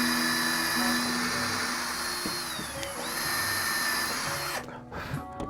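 A power drill bores a pilot hole into the wooden neck of a cigar box guitar, whining steadily and loudly with slight pitch dips under load before winding down near the end.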